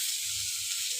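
Ginger paste frying in a pan for a bitter gourd and potato curry gives a steady, close broadband sizzle and hiss that holds evenly for about a second before cutting off abruptly.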